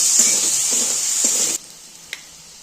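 Spiced vegetables fry in a pan for pulao, sizzling loudly while a utensil scrapes and stirs them in three soft strokes, then the sizzle drops away abruptly, leaving near quiet and a single light clink.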